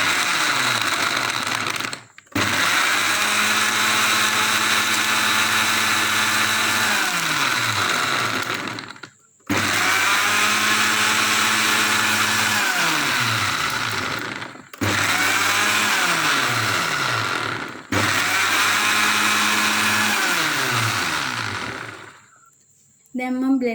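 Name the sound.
blender blending mango smoothie with milk and ice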